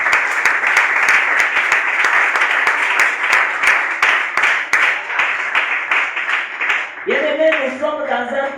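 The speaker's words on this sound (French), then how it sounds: "Est-ce qu'on peut acclamer pour la gloire de notre Dieu?" A church congregation claps and cheers together in praise, a dense, sustained wash of applause with sharp individual claps, closing with a few voices rising over it near the end.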